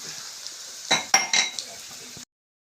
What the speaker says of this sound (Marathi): ह्या चहासोबत खायला तळत आहे पोळ्या